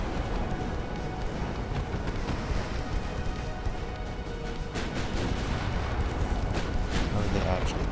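Torpedo detonations rumble through a naval battle in the warship game Ultimate Admiral: Dreadnoughts, a dense, continuous roar of heavy booms and crashes lasting several seconds.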